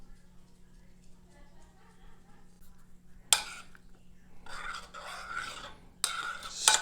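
Wine stirred in a pot for a medieval fig dessert: a quiet hum at first, then bursts of scraping and rubbing from the spoon against the pot, loud and close, in three separate strokes.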